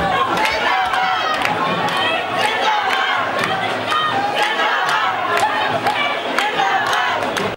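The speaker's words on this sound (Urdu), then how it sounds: "زبردست نعرے بازی کر رہے تھے" At an airport rally, a dense crowd of party workers chants and shouts slogans loudly and continuously, with voices overlapping and rhythmic cries rising through the din.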